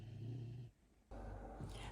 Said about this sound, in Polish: A właśnie Andrzej schodzi z piesami, z psjuszami